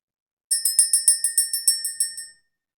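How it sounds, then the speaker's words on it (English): A small bell struck over and over, about a dozen bright, ringing strikes in a steady rhythm, each tone fading under the next, rung alone during a spiritual energy-clearing session. "Let's go ahead and ring the bell."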